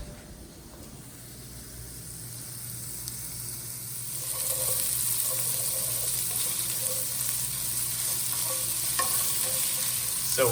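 Potatoes fry and sizzle in a pan while being stirred, a steady close hiss that grows louder midway, with occasional scraping and clinks; no one speaks.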